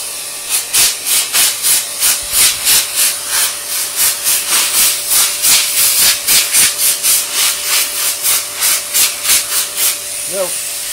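An air compressor blows dust out of the electronics of a Les Paul guitar during a setup, giving a loud steady hiss in rapid repeated bursts throughout, with a brief voice near the end.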